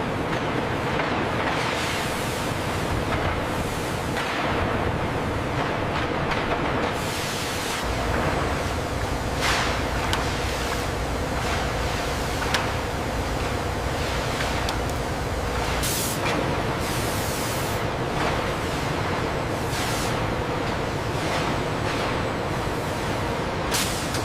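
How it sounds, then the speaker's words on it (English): Hot rolling mill for steel at the Tesla Cybertruck factory, a continuous loud roar of rushing, hissing machinery with periodic bursts of spray-like hiss and clanks, steady throughout and without voices. "Next, the hot rolling."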